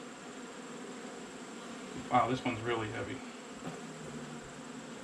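Honey bees drone steadily around an opened hive box stacked with honey frames, a low insect buzz throughout, and someone speaks briefly over it.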